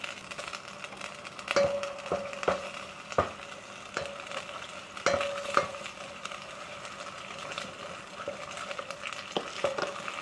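Massaman chili paste is stirred into thickening coconut milk frying gently in a pan over low heat, with soft sizzling, spoon scrapes and light clinks against the pan, fairly quiet and without speech.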